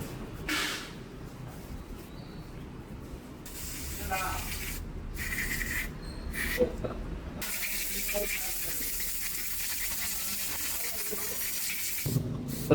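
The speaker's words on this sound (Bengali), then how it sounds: "কার্বোরেটার পিস্টনটা আমরা ভালো করে পরিষ্কার করে দিব" A Pulsar 150 carburetor piston is washed with water, a gushing spray and rubbing sound that starts and stops in bursts, running near and steady through the later part.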